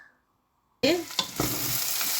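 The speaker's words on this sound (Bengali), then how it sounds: "একটা একটা করে এবার ভেজে নিই ভাজতেও বেশি সময় লাগে না" After a moment of near silence, ready-made potato pieces drop into hot oil in a pan and break into a loud, steady sizzle. A utensil clinks and stirs close by.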